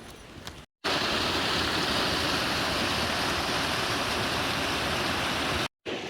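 A stream and waterfalls in Madera Canyon rush in a steady, loud, broadband roar that fills the scene, cut by two brief silent gaps near the start and end.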